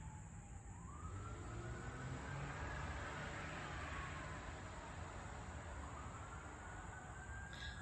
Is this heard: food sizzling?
no